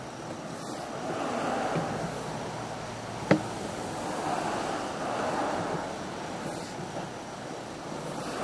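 Rainwater rushes steadily through a sewer line during a downstream cleanout after heavy rain, a constant hollow whooshing with one sharp knock partway through.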